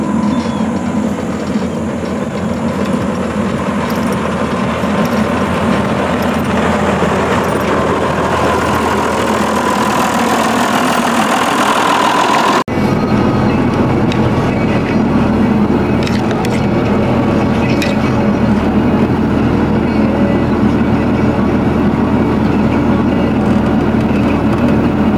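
A heavy diesel tractor engine runs continuously at close range, a loud steady rumble whose tone changes abruptly midway, then keeps droning evenly.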